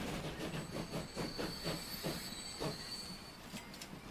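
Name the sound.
train arriving at station in video game Transport Fever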